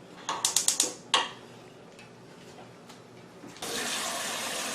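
Tap water runs in a steady rush over boiled eggs being rinsed in a kitchen sink, preceded by a quick series of clicking knocks and a louder clack.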